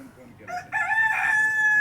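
A rooster crows once nearby, a long drawn-out call rising after a short pause, heard clearly over a quiet farmyard background.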